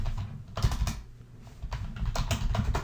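Keys clack on a computer keyboard in quick irregular bursts with short pauses between them, close and fairly quiet, with no talking.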